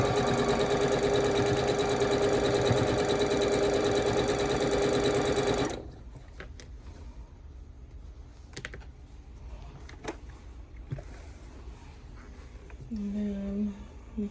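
Sewing machine stitching quilt pieces together, a loud rapid steady whir for several seconds that stops abruptly, followed by quiet handling noises and soft speech.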